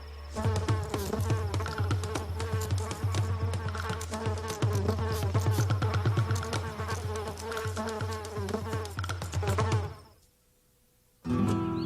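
Pollinating insects buzz steadily around garden flowers, a close, continuous drone with shifting wingbeat pitch for about ten seconds before cutting to near silence.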